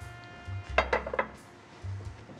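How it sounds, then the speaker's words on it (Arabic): A pot of frying oil is set down in a kitchen, giving a cluster of several close metallic clinks and knocks over a low steady hum. "رح نحط كمان طنجرة الزيت تنقليها"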